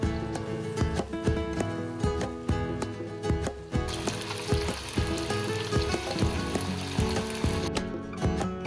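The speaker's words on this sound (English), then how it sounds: "Keep frying until the chicken takes on a deep rich color" Chicken frying in oil with ginger garlic paste in a karahi, a steady close sizzle with repeated metallic scrapes and clinks of stirring, continuous and fairly loud with no talking.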